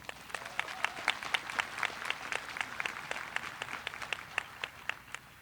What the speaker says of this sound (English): Ladies and gentlemen, please give these folks a round of applause.